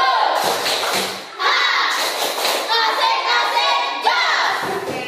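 A standing class of children claps a rhythmic spirit clap in a classroom, bursts of patterned clapping mixed with children's voices calling out along with it.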